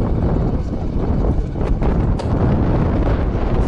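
Wind buffets the microphone in rough, rumbling gusts in an open field beside a Kirovets K525 tractor with a cultivator, loud and continuous throughout.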